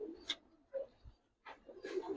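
Silver Jabra pigeons coo in a pigeon-keeper's collection: several soft, throaty coos close by, separated by brief pauses.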